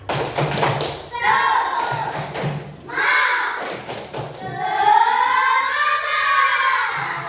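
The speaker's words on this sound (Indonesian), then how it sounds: "Tepuk semangat" A group of students does the tepuk semangat spirit clap in a classroom: sharp rhythmic bursts of unison claps and thumps alternating with loud chanted group voices.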